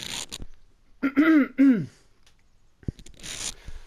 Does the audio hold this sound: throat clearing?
yes